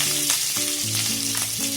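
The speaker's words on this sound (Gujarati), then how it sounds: "પછી આપણે એમાં લીલા મરચાં જે આપણે વઘાર માટે રાખ્યા હતા એ આપણે એડ કરશું" Green chillies hiss and sizzle steadily in hot oil for a Gujarati tempering, with a continuous bright crackle over a soft melodic music bed.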